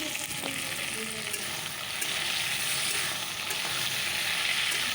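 Steady, dense sizzling of fish curry cooking in a pan, continuous and fairly close, with faint scraping or stirring clicks now and then and no talking.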